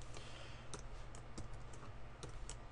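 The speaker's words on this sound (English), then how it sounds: "And then we're going to type in the following font" Faint, steady tapping of keys on a computer keyboard as HTML code is typed, with irregular soft clicks over a low background hum.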